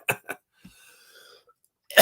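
A couple of short, dry coughs up close, followed by a quiet pause and then a louder, harsher cough.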